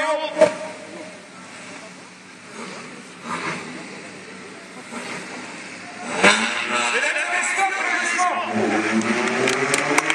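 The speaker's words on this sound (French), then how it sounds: "Une voiture qui court en club racing en Angleterre. Elle aussi avec la boîte sélective, dite boîte Wilson." A vintage club racing car fitted with a Wilson preselector gearbox passes at a classic car event in Le Touquet, its engine rising from a distant murmur to a loud, rasping drive-by, with a commentator speaking over the crowd.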